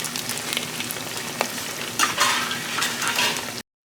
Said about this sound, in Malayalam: അതിൽ കറിവേപ്പില ഇട്ട് ഒന്ന് ചൂടായി വരുമ്പോൾ നമ്മുടെ ബീഫ് കൂടി ഇട്ടിട്ട് വറുത്തെടുക്കുക